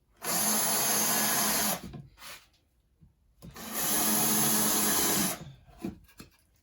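A power drill recessing screw holes in a wooden baseboard runs in two sustained, loud, close bursts, each about one and a half seconds long. A short quiet gap separates them, and faint handling noises follow each burst.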